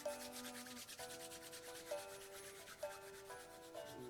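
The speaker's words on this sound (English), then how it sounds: "So, rub the hands together." Hands rubbing together briskly in a tai chi exercise, a soft rhythmic swishing friction heard over gentle background music with sustained tones, no voices.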